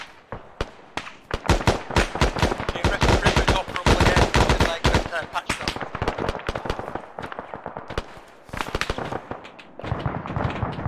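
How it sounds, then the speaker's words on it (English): Sustained machine-gun suppression fire in an Arma 3 battle, loud, dense bursts of rapid shots cracking almost continuously for several seconds, with a brief lull near the end before the firing resumes. "I need machine gun suppression on the right side as you look at the poppy field."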